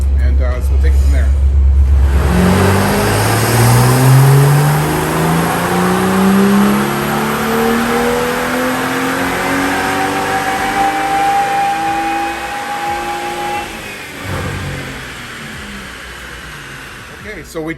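BMW M2 with N55 engine, stock, revving hard on a chassis dyno: a loud rising wail climbing steadily through the gears for over ten seconds, then dropping off as the run ends.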